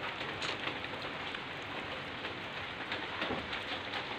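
Rain falls in a steady, soft, even hiss with scattered drops pattering on surfaces, quiet and continuous with no voices.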